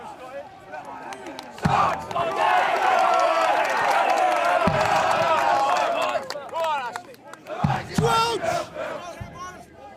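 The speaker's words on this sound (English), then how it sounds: "Look at the crowd here, absolutely bouncing." A crowd at a schoolboy 1st XV rugby match between Millfield and Sedbergh roars and chants in loud sustained waves, with sharp thumps and shouted voices breaking through, swelling and dipping across the stretch.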